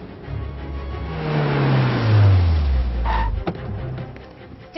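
A car engine revs hard and climbs in pitch as the vehicle accelerates past, loud and close, easing off after a few seconds with a brief clunk near the end.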